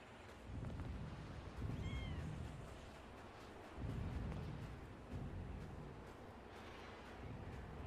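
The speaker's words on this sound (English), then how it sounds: "My cat hears your cat meow." A cat meows several times, faint and somewhat distant, against a low rumbling background with a few soft clicks.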